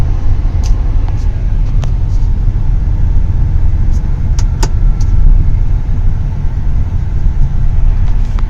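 A Hyundai i20 N Line rolls along on new Goodyear 205/55 R16 tyres, a loud, steady low road and engine rumble filling the cabin with a few faint clicks and rattles on top.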